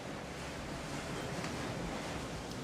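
Ocean waves surge against a sailboat crossing the Indian Ocean in rough water, a steady broadband rush mixed with wind noise and no voices.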